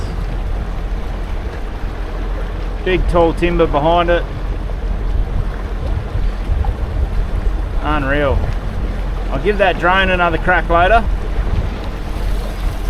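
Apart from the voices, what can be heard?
boat cruising on the lake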